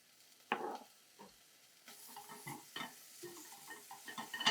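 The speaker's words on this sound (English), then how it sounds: "allow the bacon to cook in the pan until it's nicely rendered and golden brown" Chopped bacon sizzles in a pan, a sharp crackle on landing followed by a steady low fry with scattered pops and a few stirring scrapes, fairly close and without speech.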